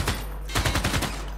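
Ships open fire in the turn-based strategy game Civilization VI, a quick volley of several sharp gunfire-like bursts in an uneven rhythm over a steady low rumble, fairly loud and close, with no talk.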